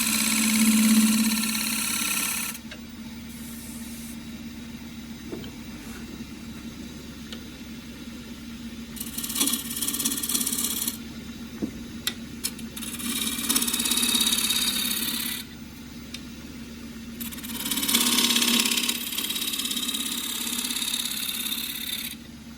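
A wood lathe runs steadily at 1150 rpm with an unbalanced claret ash bowl blank, giving a constant low hum and vibration while bursts of rasping tool-on-wood scraping come and go.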